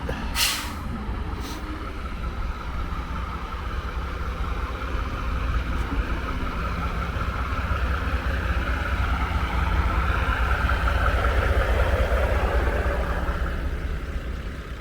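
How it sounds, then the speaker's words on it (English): Storm drain cleaning truck engine idling on a busy Brooklyn street festival, a steady low diesel rumble with a brief hiss burst at the start, continuous and fairly close. "It's one of those trucks that they use to clean out the storm drains."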